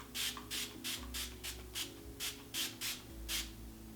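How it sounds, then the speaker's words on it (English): Hello Good Stuff 3-in-1 face mist sprayed onto a face in about ten short, hissing spritzes over a few seconds, close by over a low background hum. "first I'm going to spray my face, and I'm gonna use the Hello Good Stuff 3-in-1 Face Mist"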